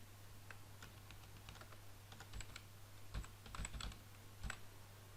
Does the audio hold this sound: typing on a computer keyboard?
yes